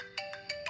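A mobile phone ringtone plays at a party, short electronic tones pulsing in a steady repeating pattern, moderately loud and close, with no voices over it.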